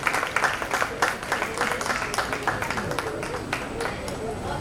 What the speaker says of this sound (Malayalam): വലിയൊരു കൈയടി പ്ലീസ്.